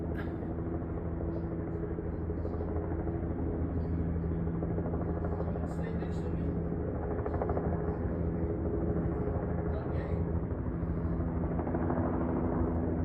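A continuous helicopter rotor drone dominates throughout, steady and fairly loud, with faint scattered noises on top.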